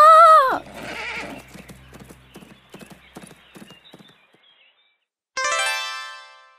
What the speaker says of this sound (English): The princess's horse was scared. It ran away fast.